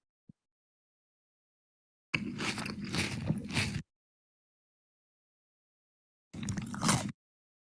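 Close-up crunchy chewing comes in two separate bursts of biting and munching, the first lasting nearly two seconds and the second shorter, with silence before, between and after.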